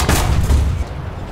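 An enemy tank gun fires in War Thunder, a loud heavy boom with a deep low rumble that decays over about a second, close and alone without talking.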